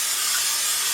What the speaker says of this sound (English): I'm going to add some olive oil.